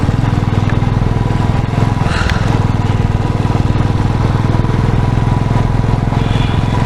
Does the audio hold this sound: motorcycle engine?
yes